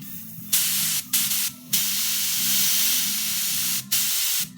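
An Iwata LPH 50 paint spray gun set to about 15 psi blows air only, with no paint, in four loud, close hissing bursts separated by short pauses.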